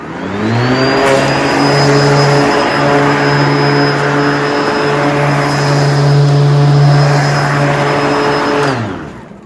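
A Ryobi 18V ONE+ cordless lawn mower spins up to a loud, steady electric whine with a droning motor hum, holds for several seconds, then winds down at the end with no talking.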